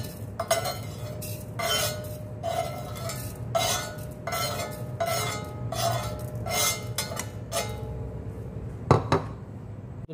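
Roasted cumin seeds are scraped off a hot tawa griddle with a metal utensil, giving a series of close, rhythmic scrapes and light clinks, closing with a sharper clatter.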